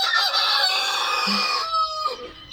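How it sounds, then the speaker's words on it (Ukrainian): On a spring Saturday morning, a rooster crows loudly and close by, and hens just let out cluck softly around it. "Випустила курочок, півник тішиться, вітає."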